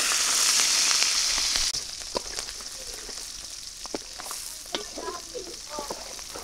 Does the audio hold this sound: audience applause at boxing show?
no